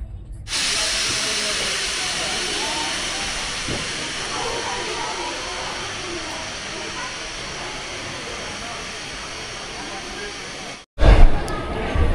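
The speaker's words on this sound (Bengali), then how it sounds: "ট্রেন এসে দাঁড়ালো যোগনগরী ঋষিকেশে" Steady hissing rumble of the Doon Express arriving at Yog Nagari Rishikesh station with a loud broadband wash of noise, like steam or brakes, holding for about ten seconds before a brief cut and a burst of noise.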